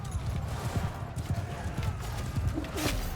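Horse hooves clip-clop in a quick, continuous rhythm in the video game Mount & Blade II Bannerlord, moderately close amid battle ambience, with a brief whinny near the end.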